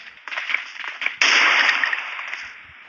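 Kar98 sniper rifle fitted with a flash hider in PUBG Mobile, a single loud, sharp crack with a bright ringing tail that fades over a second or so, after faint background chatter.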